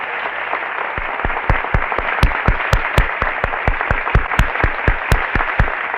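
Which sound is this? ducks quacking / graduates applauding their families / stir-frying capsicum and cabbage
graduates applauding their families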